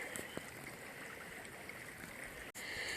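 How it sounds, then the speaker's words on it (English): Creek water in an Alabama cow pasture flows with a soft, steady rushing and trickling, faint and continuous, broken by a brief handling bump near the end. "here's another section of the creek just a little bit further down from where I was filming."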